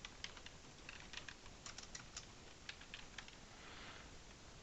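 Quiet, fast keystrokes on a computer keyboard while typing out a function name, irregular clicks spaced unevenly across several seconds, close by and with no voices.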